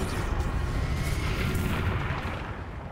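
A Descendo spell slamming an enemy down in the video game Hogwarts Legacy, a dense loud rumbling crash and magical boom that sustains briefly and tapers off at the end, with no talk.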